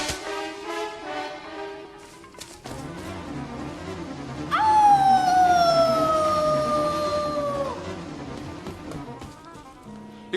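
Hounds are set loose in a chase in a horror cartoon, with a long, sustained howl rising over a tense musical backdrop, loud and drawn out before fading back under the score.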